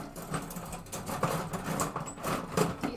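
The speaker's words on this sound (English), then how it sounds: "sorry for all of the rummaging sounds" Plastic model kit runners for a PG Astray Red Frame Gunpla build being rummaged through, giving continuous soft patter, rustling and light clicks at close range with no talk.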